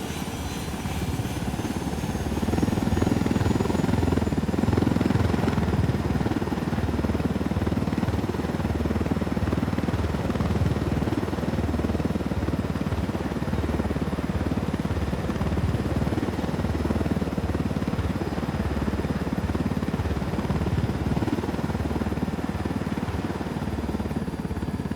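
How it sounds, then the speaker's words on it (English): A supply helicopter flies in the Ghost Recon Wildlands video game in Bolivia, its rotor a steady, loud, continuous chop that swells slightly early on and holds at a constant distance with no talk. "Supply choppers to help Cartel crushing rebels."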